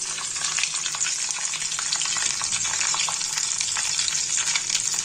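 Whole spices for tempering crackle and sizzle in hot oil, a dense, steady frying hiss with occasional stirring, loud and close throughout with no voices.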